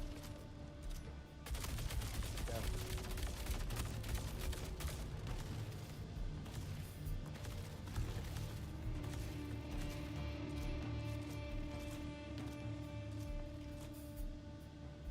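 Rapid gunfire crackles in the video game Star Citizen, a dense sustained volley of loud close shots and bursts over a humming background, running almost continuously after a brief quieter start.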